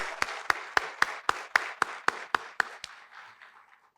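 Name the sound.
audience giving a round of applause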